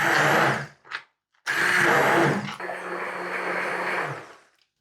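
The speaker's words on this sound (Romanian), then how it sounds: "acum îl vom face din nou cu blenderul foarte mărunt" Kitchen blender pureeing strained roasted bell pepper into a fine paste for homemade ketchup, loud whirring in short bursts then a sustained run that cuts off, close by and alone.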